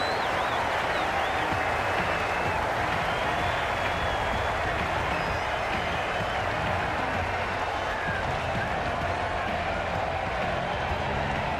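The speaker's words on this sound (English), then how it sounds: "They will receive now the warmest of receptions from this crowd for a supreme display of batting" A stadium crowd in the Cricket 22 video game applauds a batting display at a Hundred match between Birmingham Phoenix and London Spirit, a steady, even roar of clapping with no break.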